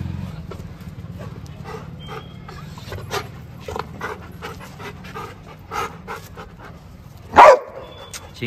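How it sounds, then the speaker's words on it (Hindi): German Shepherd dogs, one heavy-coated and one normal-coated, pant in quick rhythmic breaths close by, with a single sharp loud bark near the end. "फिर वो वहां से भौंकेगा"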